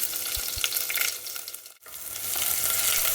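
Garlic, ginger and chilies lightly frying in a pan for a curried bean subji give a steady close sizzle with a few soft knocks, briefly dipping before the crackle returns.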